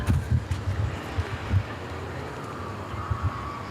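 Strong wind buffets a rooftop of a Marseille apartment block, heavy low rumbling gusts pounding the microphone and then easing into a steadier roar.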